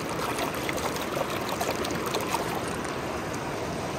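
A toy hermit crab swishes through water, giving a steady, close trickling and splashing wash that runs evenly throughout with no voices.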